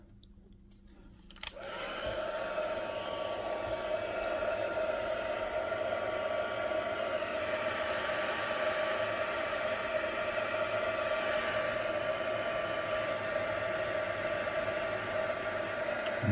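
A heat gun blowing hot air over powder switches on with a click and rises into a loud, steady whooshing roar with a faint whine, running continuously and close by without any talking.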